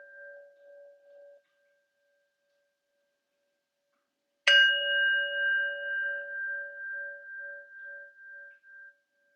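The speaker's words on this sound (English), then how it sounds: "So let's start with 3 sounds of the bell." A meditation bell is struck once, giving a sharp clear strike and a long pulsing, fading ring, heard against a faint earlier tone and otherwise quiet surroundings.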